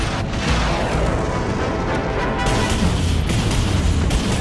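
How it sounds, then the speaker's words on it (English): Torpedo tubes firing aboard a warship in the naval combat game Dreadnought, heard as a dense, loud, continuous barrage of booming blasts and rumble with no clear gaps, close and filling the whole stretch without voices. "Torpedo tubes."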